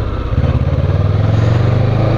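A motorcycle engine idles close by while the rider is parking, a loud, continuous low chugging with a steady pulsing rhythm and no talk over it.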